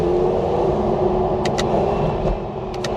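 An Audi R8 V10 Performance on a B road, its engine giving a loud, steady roaring rumble under way, with a few faint high chirps near the end.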